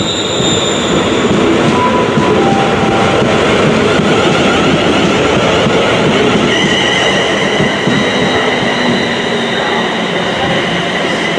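A refurbished class 372 train in London Northwestern Railway livery passes at a station platform with a loud, continuous rolling roar, clattering wheels and high squealing tones throughout.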